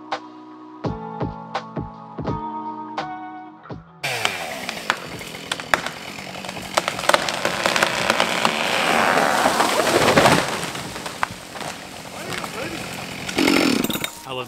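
A Husqvarna 572 XP chainsaw fells and cuts a tree, its raspy engine buzzing continuously up close after a few seconds of plucked musical notes.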